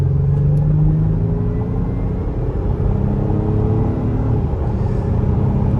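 A 2022 Acura MDX Type S in sport mode accelerates onto a highway, its engine rumbling in a steady, rising drone with tonal harmonics climbing through the pull, heard from inside the cabin with no talking.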